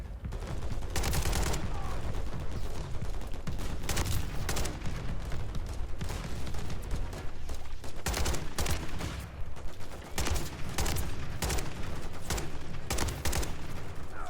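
LMG gunfire in Modern Warfare III, long sustained bursts of rapid automatic shots with brief pauses, loud and close throughout, with game sounds mixed in.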